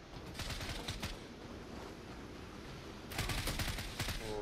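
Gunfire in the online shooter Zula, heard as two rapid automatic bursts, one near the start and a louder one near the end, over steady quiet game background noise.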